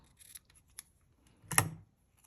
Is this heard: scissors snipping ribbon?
yes